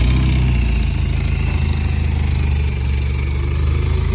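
A 1991 Mazda Miata engine runs loud and close, settling into a steady, throbbing idle with no voices over it.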